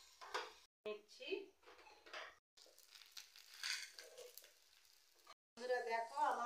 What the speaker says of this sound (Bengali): এরকম করে সবগুলো আমি ভেজে নেব।